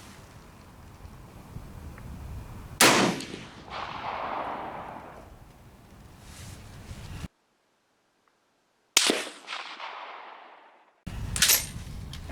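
A rifle, either a K31 or an M1A, fires sharp booming shots at an outdoor range, each with a long rolling echo, about three loud reports separated by pauses and a stretch of dead silence.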